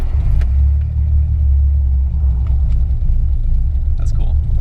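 A 1972 Nissan 240Z with a carbureted engine rumbles steadily at low pitch from inside the cabin, with occasional faint clicks over the drone and people talking throughout.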